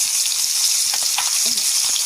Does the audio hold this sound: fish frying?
yes